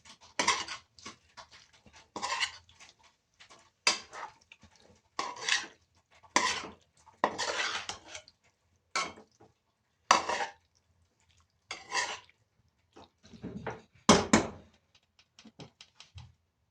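Ground beef is stirred in a cooking pot with a utensil, giving repeated scraping, clinking strokes in an uneven rhythm, close and fairly quiet with pauses between.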